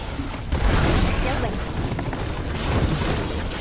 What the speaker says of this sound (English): Okay, I'm ready for all the explosions.